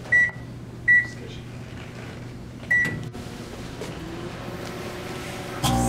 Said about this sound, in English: Set the microwave for 15 seconds and start it up.